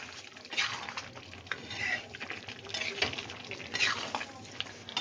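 Vegetable and prawn curry with coriander leaves stirred in a pan, a utensil scraping and clinking against the metal in repeated strokes over a soft background sizzle, close and moderately loud.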